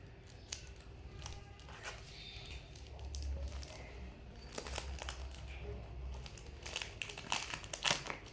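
Plastic packaging of rainbow sticky notes and journal stickers crinkles and rustles as it is opened, with small snips and crackles coming close but quiet.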